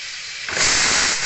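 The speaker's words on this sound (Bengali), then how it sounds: "এখানে মাটনটা সিটি দেওয়া হলো" A pressure cooker cooking mutton lets out a sudden loud hissing whistle of steam that swells and holds steadily.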